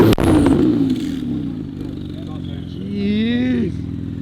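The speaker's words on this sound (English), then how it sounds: "Got the nice little Porsche, bro. He's been doing pulls all night" A Porsche revving at a nighttime car meet, engine note dropping after an opening blip then rising again in a second pull, up close and loud with talk nearby.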